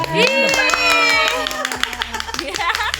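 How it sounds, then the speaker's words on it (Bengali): A few close claps sound at a first birthday celebration at home, mixed with an adult voice calling out over them. "হাততালি দাও"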